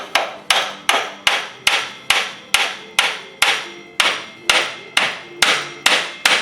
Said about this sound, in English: I can tap it in with a hammer because we're not going to damage the shaft